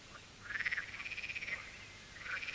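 Frogs croak in rapid, pulsing bursts: a long rattling call is followed after a pause by a shorter one, fairly close and clear over a soft outdoor background with no voices.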